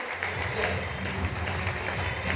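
A seated audience at a business meeting in Chhatrapati Sambhaji Nagar applauds to welcome first-time guests, a steady dense wash of clapping throughout, fairly distant.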